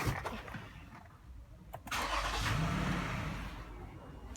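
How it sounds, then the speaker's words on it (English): A 2009 Toyota Highlander with a low mass air flow sensor circuit fault starts up: a brief cranking whir, then the engine catches and settles into a steady, fairly close idle hum. "So I'll start the vehicle now"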